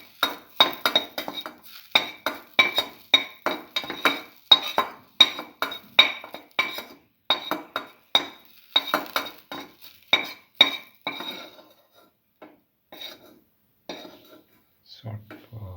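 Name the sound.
dried berries added to pan, utensils clinking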